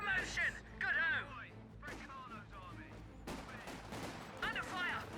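Gunfire in the Company of Heroes 2 strategy game, with bursts of rifle and machine-gun shots and crackling battle noise mixed under loud unit voice lines and chatter.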